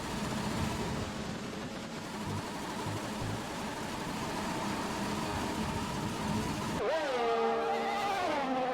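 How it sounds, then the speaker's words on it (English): A McLaren Formula 1 car in the F1 2020 racing game, its engine running rough and unhealthy, drones steadily and loudly throughout, ending in a rising and falling whine of revs. "That engine does not sound too healthy on that McLaren right now"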